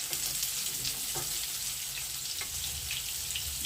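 Continuous close sizzling of eryngii mushrooms frying in a hot pan, an even hissing crackle with a few soft clinks and no voices.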